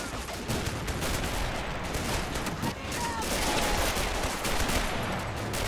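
Dense gunfire from a war video game depicting a US Marine invasion of French Indochina at Natuna: rapid overlapping shots and bursts without a break, with battle noise layered throughout.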